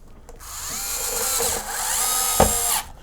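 Powered screwdriver driving a screw into an Xbox One S during a fan replacement, a close, steady high-pitched whir lasting over two seconds, with a brief ratcheting click near the end.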